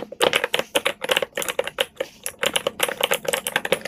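Rapid, crisp plastic clicking, like keys being pressed repeatedly on a small keyboard keychain, in quick irregular bursts, close up with no voices.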